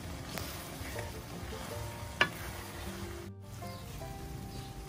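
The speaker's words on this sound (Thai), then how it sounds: "ก็คนไปเรื่อยๆจนน้ำแห้งค่ะ เคี่ยวไปเรื่อยๆให้น้ำแห้งเลยค่ะ" Candied karanda fruit simmers down in its syrup while being stirred, a faint, steady bubbling with soft scraping and one small clack partway through.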